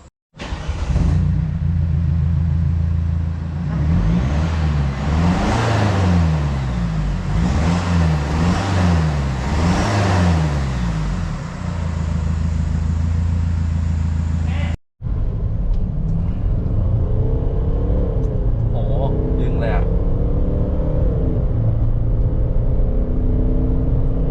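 A diesel Mercedes-Benz W204 sedan with an aftermarket exhaust revs repeatedly in rising and falling sweeps, loud and close, then after a brief cut idles and blips again more quietly.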